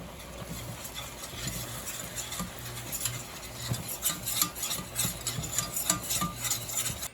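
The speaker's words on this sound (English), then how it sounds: "Dennis made the roux, and I've just been whisking it" A whisk stirs roux in a pan, steady scraping and rubbing strokes with light metallic clinks of utensil on pan, close and continuous with no talking.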